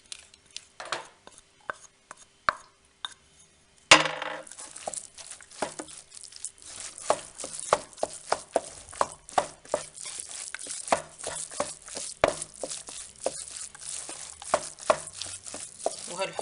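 Spoon stirring melted butter cream into a sausage and kefta filling for cigar pastries, a run of soft, regular scraping and mixing strokes, close and fairly loud, alone with no voices.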